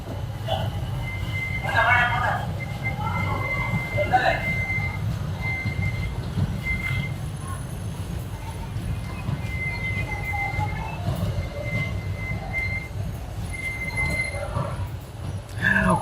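A train passes through Palani railway station during a parallel arrival and departure, giving a steady low rumble and clatter of wagons with occasional high wheel squeals over about sixteen seconds, while voices murmur in the background.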